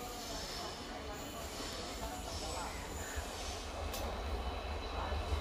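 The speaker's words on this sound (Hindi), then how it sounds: "तो अभी एक ट्रेन आ रहा है" A train from Bangalore bound for Ernakulam rolls into Aluva railway station in Kerala, a steady rumble of wheels and cars with faint squealing, growing slightly louder as it approaches.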